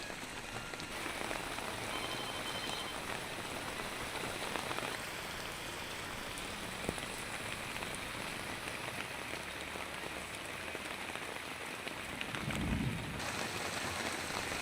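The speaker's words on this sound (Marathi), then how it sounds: "विजांच्या कडकडाटासह जोरदार पावसाची हजेरी पनवेल, कळंबोली आणि खारघर या परिसरात पाहायला मिळते" Heavy rain pours in Navi Mumbai as a steady, dense hiss of drops on surfaces, with a brief low rumble of thunder near the end.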